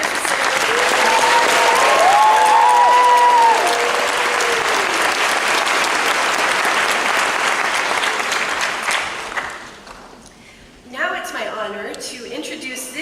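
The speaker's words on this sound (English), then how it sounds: "Audience, please join me one more time in an enthusiastic round of applause" A large graduation audience at Cal State Chico claps in sustained, dense applause. Cheers and whoops rise over it early on, then the clapping thins and fades toward the end, and a voice begins speaking.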